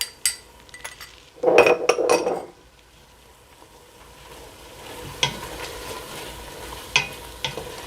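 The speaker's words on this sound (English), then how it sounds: "Just give those a quick little stir here." Whole warm spices fry in a pot with oil for Tanzanian coconut chicken pilau as a spoon stirs them, a loud scraping clink burst followed by a quieter steady sizzle and occasional light taps, no talk.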